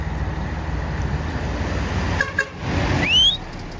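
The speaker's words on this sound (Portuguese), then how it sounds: "Ó, tem buzina." A horn on a Mercedes-Benz 113 truck toots briefly near the end, sounding over steady engine rumble and road noise.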